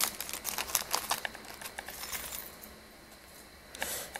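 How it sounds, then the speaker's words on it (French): Small metal charms handled and jingling: light scattered clinks and crinkly rustles, close and quiet, dense at first and thinning out, with a final brief jingle near the end. "Et la dernière chose que Tatiana offre, ce sont des breloques."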